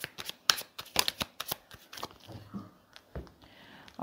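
Tarot cards being shuffled and drawn at close range, a run of sharp papery snaps and flicks in quick bursts, with quieter sliding and handling in between.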